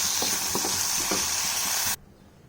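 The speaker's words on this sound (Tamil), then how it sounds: "சின்ன வெங்காயமும் தக்காளியும் வதங்கிட்டுருக்கு." Shallots and tomatoes sauté in a pan for fish kulambu, a steady close sizzle broken by a few stirring scrapes, cutting off abruptly near the end.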